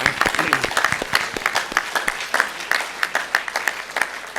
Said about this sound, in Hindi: एक बार भाई रिंकू सिंह राजपूत के लिए जोरदार तालियां हो जाए।